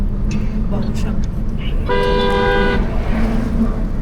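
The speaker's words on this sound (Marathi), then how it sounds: "व्हॅनवाला ड्रायव्हर खूप जास्त पळवतोय गाडी." Van driving fast on a road toward Omkareshwar, a steady engine and road roar with a clear horn toot in the middle, while people talk inside.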